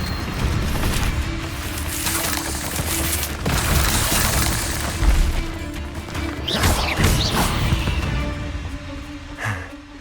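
Confringo blasting spell from Hogwarts Legacy, loud crashing magical blasts and impacts in a busy combat mix, with bursts and whooshing streaks over steady rumbling action.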